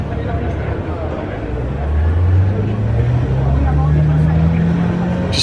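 A front-wheel-drive car accelerates hard on a race track, its engine note rising steadily as it pulls, close and loud, with a person talking over it.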